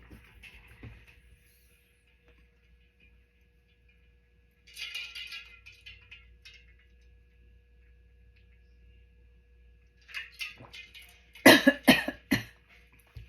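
An adult coughs several times, near and loud, in a cluster toward the end in a quiet crafting room; a shorter throat-clearing burst comes midway over a faint low hum.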